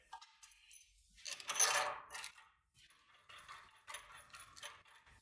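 A carding wheel arbor's 1/2 inch diameter end is slipped into a metal collet, giving a scatter of light, close metallic clinks and taps in short irregular bursts against a quiet background.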